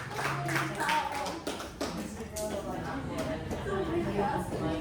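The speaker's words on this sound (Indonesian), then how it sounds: "tepuk tangan buat Jesselyn dulu" Applause breaks out in a room for a participant named Jesselyn, a moderate patter of hand claps mixed with background chatter and voices.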